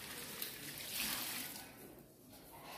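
Running water rinses ginger under a tap before boiling, a steady splashing wash that swells midway and then softens, close and continuous with no talk.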